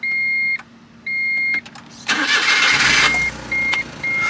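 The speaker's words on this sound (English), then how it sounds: "I am going to kill it and see if it starts again" A car engine is shut off and then cranked back to life, a mid-pitched motor catching and settling into an idle, with short electronic chimes beeping before and after the start.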